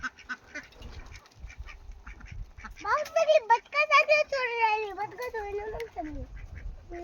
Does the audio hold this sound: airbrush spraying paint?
no